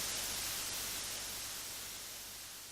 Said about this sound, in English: You've got a noise slide, whatever that is.